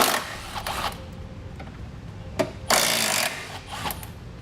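A power tool works at bolts on the rear of a truck's frame rail during a trailer hitch install, giving short buzzing bursts with one longer whirring run near the middle, close and fairly loud.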